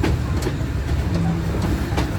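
A train rolls toward platform 5 at Rawalpindi railway station with a loud, near, continuous rumble, and faint wheel clacks sound over the heavy low drone.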